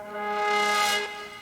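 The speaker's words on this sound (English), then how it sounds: "And here is a brass sound" A synthesized brass sound from a music production plays a single sustained chord that swells, brightens and then fades over about a second.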